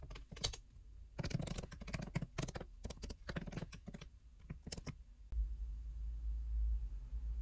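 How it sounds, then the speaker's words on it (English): Close, quiet clatter of fingers typing on a computer keyboard in irregular bursts, then stopping as a low hum takes over. "I start by typing hello,"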